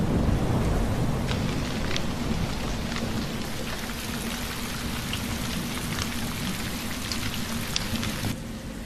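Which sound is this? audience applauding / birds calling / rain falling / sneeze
rain falling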